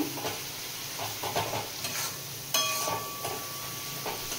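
A spoon stirs and mixes ingredients in a hot pan for a Bengali rui fish curry with cauliflower and potatoes, steady sizzling and frying hiss under intermittent scraping strokes, close and continuous.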